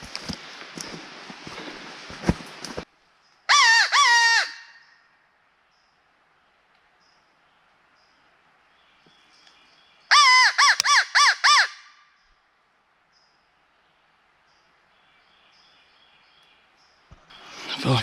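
Wild turkey gobbles on a distant ridge in two separate bursts of rapid, rattling gobbles, faint and far off against a quiet woodland background, with footsteps shuffling through leaves at the start and end.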